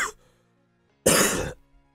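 One sharp, loud cough bursts out close to the microphone after a brief earlier throat sound, then quiet follows.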